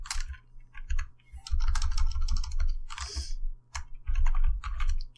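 Rapid bursts of typing on a computer keyboard while writing code for a Unity horror game, close and crisp, with short pauses between flurries of keystrokes.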